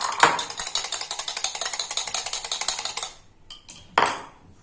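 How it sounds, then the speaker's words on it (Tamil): Eggs beaten briskly in a bowl with coriander leaves for a mushroom omelette, a fast steady metallic clatter of utensil against the bowl for about three seconds, then a few scattered taps. "இந்த எக்கை வந்து நல்லா பீட் பண்ணிடலாம்"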